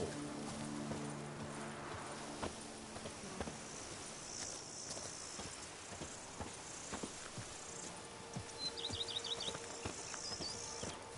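Steady clip-clop of galloping horse hooves at a rhythmic pace in the video game The Witcher 3, over a busy game ambience with faint insect chirps, fairly quiet throughout.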